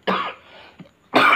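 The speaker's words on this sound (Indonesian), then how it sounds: "saya ngomongin orang jadi batuk" Two sharp coughs from a man, one at the start and another near the end, separated by a short breathy pause, loud and close with no other sound around them.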